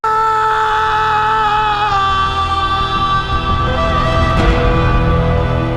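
A man in the 2022 film Sisu lets out a loud, sustained, strained scream that holds for several seconds with little break.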